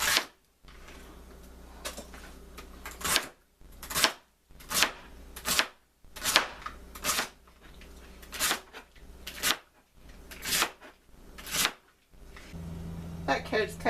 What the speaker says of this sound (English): So I'm going to rinse it and chop that up.